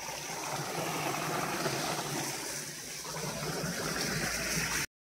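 Cold tubewell water flows steadily across a village farm field, a continuous broadband rush and splash holding near and fairly loud for the whole stretch before cutting off abruptly.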